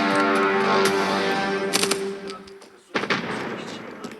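Rapid machine gun bursts in a first-person shooter video game, loud and dense for about two seconds, then a pause and another sharp burst of gunfire with a trailing echo.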